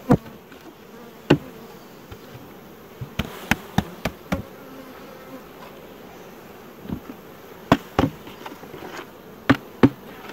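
Soft honeybee buzzing hums underneath at an open hive, broken by several sharp knocks and clicks of frame handling, some in quick pairs, with no talking.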